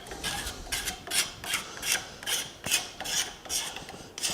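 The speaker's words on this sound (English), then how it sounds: "Hit it with the file." A hand file rasps a wooden letter opener in about ten steady, evenly spaced strokes, close up and alone.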